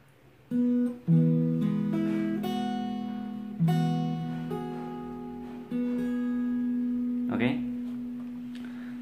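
Acoustic guitar strings plucked one at a time, each note ringing out and overlapping in a slow, clear sequence, ending with a quick sliding pluck on the second string.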